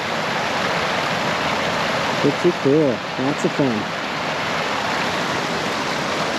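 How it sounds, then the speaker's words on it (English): Water pouring steadily over a low-water bridge on a Missouri stream in Hercules Glade Wilderness, a loud, even rushing that fills the scene while a voice speaks briefly over it. "It's a bridge that goes under the water and lets the water flow over."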